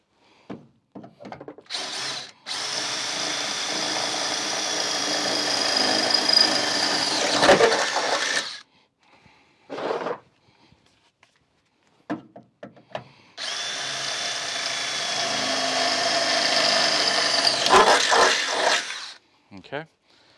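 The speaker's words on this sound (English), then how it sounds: "now I'm gonna go ahead and drill out these 2 bottom holes on this bracket" A power drill whirs loudly in two long bursts of several seconds each, drilling holes in a metal bed bracket on a Toyota Tacoma, separated by a pause with a few faint handling clicks.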